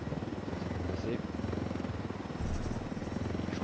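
A helicopter in the video game Ghost Recon Wildlands drones with a steady, close rotor hum that fills the whole clip, with a voice speaking over it.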